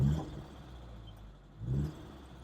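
Nissan Sunny B11 engine running quietly, a low steady hum with two brief swells at the start and end, heard faint and close with no talking.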